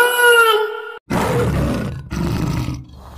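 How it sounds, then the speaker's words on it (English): A tiger gives a loud, close roar, followed by two rough, growling bursts separated by brief pauses, with a raspy, throaty texture. "T for tiger."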